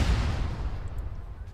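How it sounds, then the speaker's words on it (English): Cluster bombs in the video game ArmA 3 end in a heavy rumbling blast that opens loud and low and trails off into a long decaying roar, distant and rolling, with no talk. "those cluster bombs, good god"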